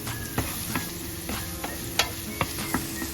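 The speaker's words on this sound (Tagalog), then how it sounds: "let's heat oil in a pan and saute garlic" Garlic and onion sizzle steadily in hot oil in a pan, with a spatula stirring and scraping in light, regular strokes close by.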